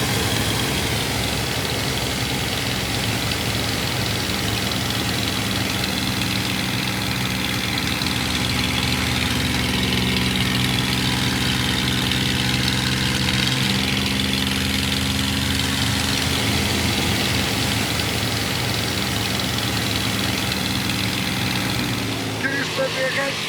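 A small single-engine aeroplane drones steadily and loudly at close range, holding an even roar for the whole stretch before cutting off abruptly at the end.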